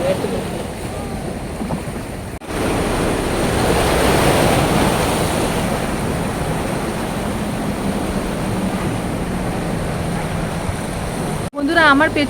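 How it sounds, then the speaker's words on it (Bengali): Rough Andaman sea crashes near the shore, swelling into a loud, sustained roar of surf with wind noise, briefly quieter at the start and end. "দেখুন কত উত্তাল সমুদ্র"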